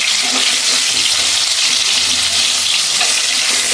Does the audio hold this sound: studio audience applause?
no